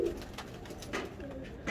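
A red-eyed breeder pigeon gives a few soft, muffled coos, faint and low against a quiet background.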